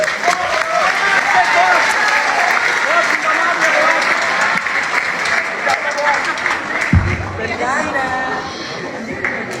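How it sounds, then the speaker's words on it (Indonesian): A live audience at a university faculty question-and-answer session keeps up dense, steady applause, loud and continuous, with crowd chatter and voices mixed in throughout. "gue minta kalian semua untuk tepuk tangan buat bos"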